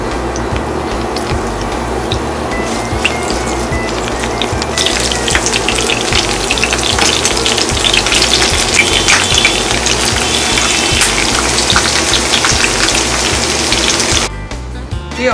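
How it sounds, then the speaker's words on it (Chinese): Hot fried seasoning oil poured back into a wok for Henan green bean braised noodles, a loud continuous sizzle and gush of liquid with no talking, cutting off abruptly near the end. "把炸好的料油倒回锅里边"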